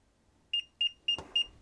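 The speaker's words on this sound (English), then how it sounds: "it's going to be beeping at us to let us know that it's not at a perfect level" A Zokoun 360 self-leveling green laser level with 16 lines beeps when it is not level, giving a steady series of short, sharp electronic beeps close by.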